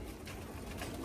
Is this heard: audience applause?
no